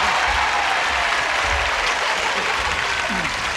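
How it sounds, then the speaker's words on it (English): A studio audience gives a brisk round of applause to greet celebrated stars, a loud, dense, continuous wash of clapping from many hands that holds steady throughout, close and full, with a voice faintly underneath. "join us, if you would please, with a brisk round of applause as we say hello to our celebrated stars"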